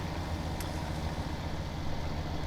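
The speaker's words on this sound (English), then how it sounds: "lovely sound out of that tractor as well" A tractor engine idles in Farming Simulator 17, giving a steady, continuous low mechanical drone that holds an even level throughout with no voices over it.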